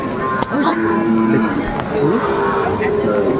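Several Sahiwal cattle moo loudly over a busy crowd of talking voices at a livestock market in Chapainawabganj, Bangladesh, their low drawn-out calls overlapping amid market noise.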